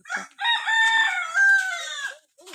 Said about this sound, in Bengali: সরি মোরগ ডাকতেছে